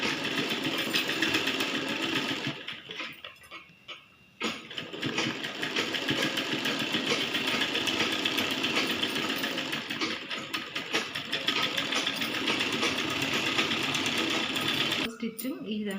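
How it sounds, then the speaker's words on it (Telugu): Sewing machine running in long continuous bursts while stitching the hand sections of a small child's saree with gathered pleats, with brief pauses between runs and speech in the clip. "హ్యాండ్స్కు ఈ విధంగా మనం స్టిచ్ చేసుకోవాలి"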